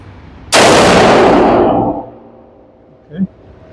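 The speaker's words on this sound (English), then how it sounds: "Let's take first shots with this bad boy." A single loud, close rifle shot from a GQ Armory Paladin 6mm ARC carbon rifle, a sharp crack followed by a long rolling echo that fades over about a second and a half, then a brief thump.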